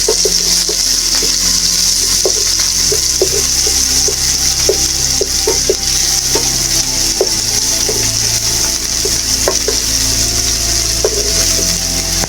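Onions fry in a pan for a chicken macaroni vegetable samosa filling, giving a continuous loud sizzle with scattered light taps and scrapes from stirring, and no voices.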